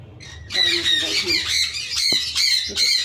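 A pet bird gives a rapid run of loud, harsh, shrill squawks close by, repeating almost without pause over a few seconds.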